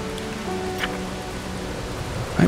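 Steady rain falls in the survival video game Hobo: Tough Life, an even, continuous patter of light drops with no talk.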